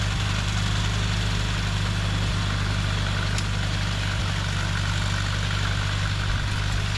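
A John Deere 350 sickle bar mower's tractor engine runs steadily and loudly nearby, a constant low rumbling hum with a vibrating rattle and no speech.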